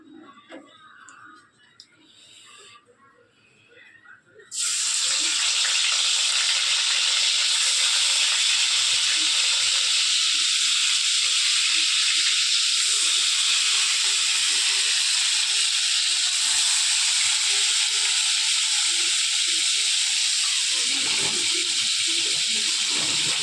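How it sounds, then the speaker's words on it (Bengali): Pieces of rohu fish go into hot oil in a wok and set off a sudden, loud, steady frying hiss that holds unbroken for many seconds after a quieter start. "তো চলো আমি একেবারে মাছগুলো কড়াইতে দিয়ে দেবো।"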